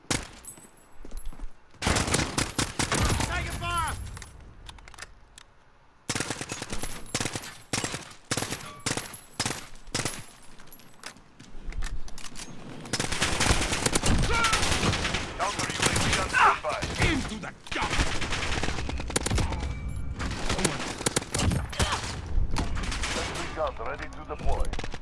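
Repeated bursts from an AN-94 assault rifle in Call of Duty Modern Warfare, sharp clustered shots separated by short silences and then a longer dense stretch of gunfire, loud and close.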